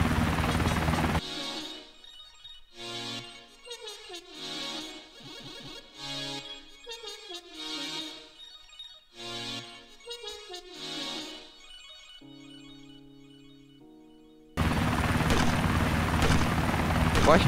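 Helicopter rotor blades in the video game Arma 2, a loud sustained whir at the start and end with a stretch of voices and game sounds in between.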